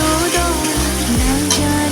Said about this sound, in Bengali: এবার একটু ভাজা ভাজা করতে থাকবো